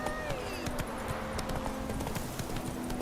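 Hooves of the horse Roach clip-clop in The Witcher 3 game, a quick steady rhythm of sharp close footfalls with a faint tonal hum beneath.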